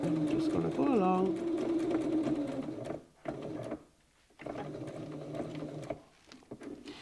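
A sewing machine runs steadily while stitching small patchwork hexagons at a short stitch length. Its whirring continues for several seconds, pauses briefly, then resumes, with a person talking over it.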